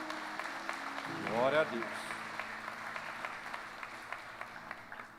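A church congregation applauds softly and steadily, with the clapping heard at a distance under a single voice speaking a short phrase.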